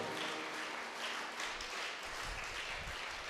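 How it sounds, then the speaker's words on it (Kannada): A church congregation at a live Kannada prayer service in Thokkottu claps loudly in praise, a dense, continuous wash of applause that stays steady throughout with no voices on top. "ಗಟ್ಟಿ ಚಪ್ಪಾಳೆ ತಟ್ಟುತ್ತಾ ದೇವರನ್ನು ಸ್ತುತಿಸೋಣ"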